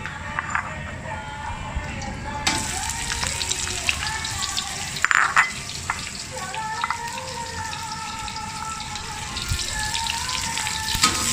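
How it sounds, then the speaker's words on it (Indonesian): Onions (bawang besar) frying in a hot wok (kuali) for a sour prawn curry, a continuous bright sizzle with scattered crackles and a louder burst of spatter midway. "panaskan kuali, masukkan bawang besar"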